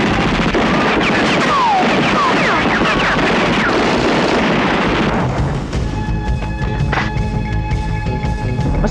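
Gunshots boom in a Filipino action film, a dense, loud run of firing and blasts over the first five seconds, then quieter scoring with a single sharp crack.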